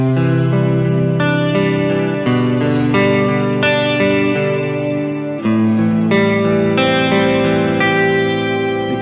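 Electric guitar through a multi-effects pedal with chorus and reverb engaged, a steady stream of strummed and picked chords with lush, swirling sustain and ambient tail, continuous and loud with no voices.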